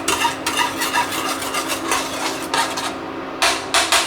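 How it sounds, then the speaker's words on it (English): Pizza toppings with Italian herbs and parsley are tossed and mixed in a bowl, giving close, loud, rapid scraping and rubbing strokes in quick bursts, with a short pause near the end. "Okay, let's give that a good mix."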